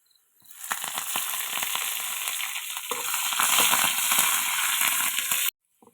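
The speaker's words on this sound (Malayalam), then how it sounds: "അപ്പോൾ നമ്മുടെ ചെറിയ ഉള്ളി പൊരിയാൻ തുടങ്ങിയിട്ടുണ്ട്" Shallots and curry leaves fry in coconut oil in a pan, bursting into a loud, dense crackling sizzle that swells and then cuts off abruptly.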